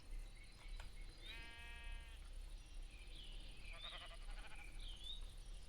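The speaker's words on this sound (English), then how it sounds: "I found sheep, but they are stuck in water." Sheep in the Minecraft video game bleat a few times, short wavering cries over a quiet, steady background hiss, one call early and a couple more toward the end.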